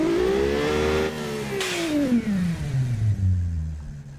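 A twin-turbo car engine in the game Automation revs up and then winds slowly down, its tone falling steadily with a faint whir on top. It is close and clear, and no one speaks.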